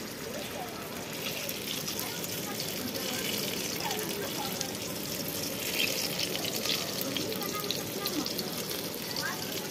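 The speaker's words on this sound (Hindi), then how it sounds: "बैगन है जिसका फ्राई हो रहा है।" Eggplant slices for baigan bhaja fry in a pan with a steady, close sizzle and a hissing crackle throughout, under a person talking.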